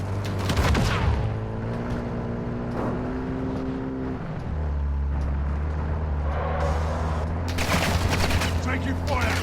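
Call of Duty gunfire, with bursts of shots and rattling fire mixed with engine drones and battlefield noise, loud and close, while a person talks over it.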